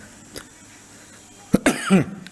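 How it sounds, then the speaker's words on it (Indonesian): A few sharp coughs close to the microphone, one brief cough then a quick cluster of throaty coughs near the end. "maaf saya batuk dulu ya"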